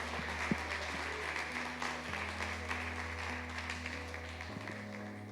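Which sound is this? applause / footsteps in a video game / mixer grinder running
applause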